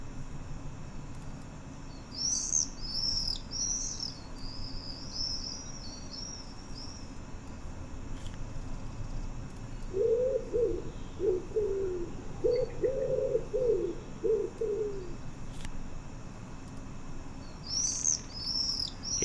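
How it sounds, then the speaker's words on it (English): Forest birdsong ambience in The Lord of the Rings Online game: high chirping trills come in bursts, and a run of lower cooing calls follows midway, all over a steady background hiss. "I hear lots of sound effects of birds."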